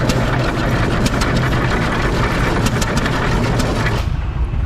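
An old hit-and-miss stationary engine at a steam engine show runs after being cranked by its flywheel, thumping steadily and close with a rapid pulsing beat that cuts out near the end.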